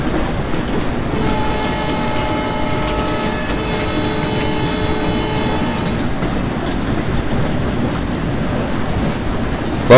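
A passenger train rolls through Open Rails simulator scenery with a loud continuous rumble and wheel clatter while a long steady horn sounds for a few seconds early on, another train arriving on a curve.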